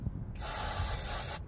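Aerosol spray can hissing onto a car during DIY repair work, one steady continuous burst of about a second, close and fairly loud, with no talk.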